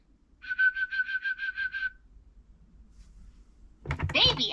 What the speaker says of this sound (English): Some owls whistle like humans can.